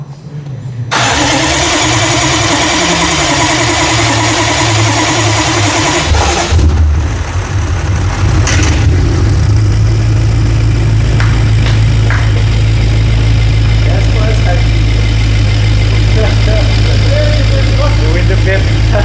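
A rebuilt BMW M6 engine cranks for several seconds, catches, and settles into a steady, loud, low idle that runs to the end, with people talking over it.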